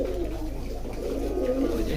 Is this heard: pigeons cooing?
yes